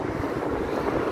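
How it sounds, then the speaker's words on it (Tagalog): Strong wind beside a lake buffets the microphone in a brief, continuous, roaring rush of gusty noise, close and fairly loud, with no voices. "Super hangin."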